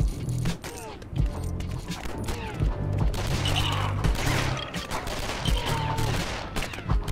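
Rapid bursts of automatic gunfire from a weapon in the Lego Batman video game, loud and repeated in quick volleys with short gaps between them.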